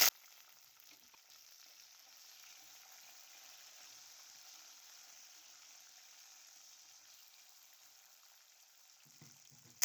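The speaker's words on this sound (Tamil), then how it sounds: "வெங்காயம் வெள்ளைப்பூடு நல்லா வதங்கினதும்" Onion and garlic sautéing in a pan sizzle in a steady, even hiss that carries on without a break, with a faint clink near the end.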